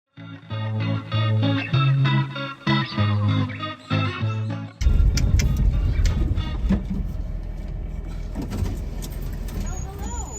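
A car drives along an unpaved road, its tyres and body giving a loud, rough, continuous rumble that starts about halfway through, after several seconds of tonal music.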